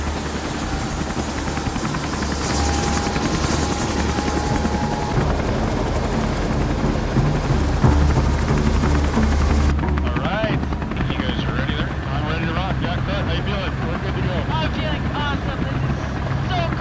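A helicopter's rotor thumps and its engine roars steadily and loudly throughout, very close by, with voices talking beneath the din.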